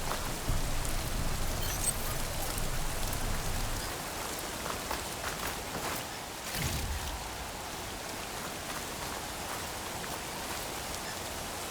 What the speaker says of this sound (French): J'entends plus rien avec cette pluie.